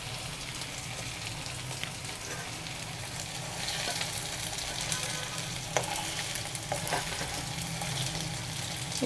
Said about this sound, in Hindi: पनीर फ्राई हो गया है, हल्का सा करना है, हमें ज़्यादा नहीं करना।